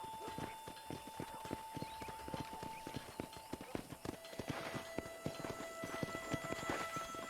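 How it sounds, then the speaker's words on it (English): Horse hooves clip-clopping at a steady walking rhythm in the Red Dead Redemption video game, faint and continuous with quiet game ambience behind. "Horse."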